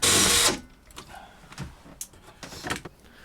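A screw gun drives a self-tapping screw into a metal carcass in a loud half-second whir, followed by faint clicks, scrapes and handling noises nearby.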